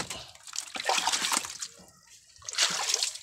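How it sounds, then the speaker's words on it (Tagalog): A catfish being prepared for grilling flops back into water by a riverside, making a close, wet splash followed by a second burst of splashing and trickling. "Napunta pa sa tubig tong isa"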